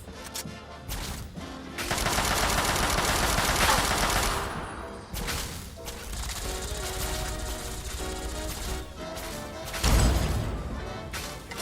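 Sustained gunfire from the post-apocalyptic game Fallout 3, a dense automatic volley building around two seconds and holding with a heavy burst near ten seconds, loud and continuous under a busy battle soundscape.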